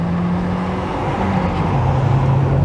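An MK4 VW Golf GTI accelerates on a hill road, a steady close engine drone from inside the car with the pitch climbing toward the end.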